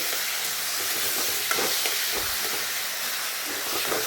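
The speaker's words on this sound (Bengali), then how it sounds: "খুব ভালো করে এবার একটু নাড়াচাড়া করে নিচ্ছি।" Boiled taro greens fry with garlic and chili in a pan, a steady bright sizzle with a few soft scrapes and clatters as they are stirred.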